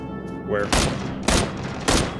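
Video game gunfire breaks out in three loud, broadband bursts about half a second apart, sharp volleys cutting over a low hum of game background noise with no talk.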